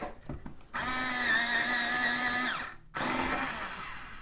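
Electric pencil sharpener grinding a pencil: a sharp whirring motor whine for about two seconds, a short pause, then a second burst, close and clear with no talking.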